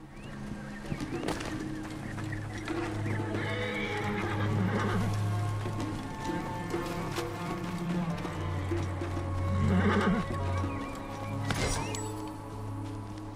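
Horses in the video game Assassin's Creed Origins neigh and whinny several times over a bed of hoof clip-clop, with faint birds and ambient game sound behind.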